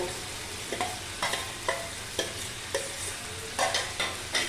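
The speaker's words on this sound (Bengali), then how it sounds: "ভেজে রাখা পেঁয়াজগুলো দিয়ে একটু নেড়ে নেব" Fried onions stirred into a sizzling bhetki fish-bone curry, a steady hiss of frying broken by regular scraping strokes of a spoon through the thick mixture, close and clear with no voices.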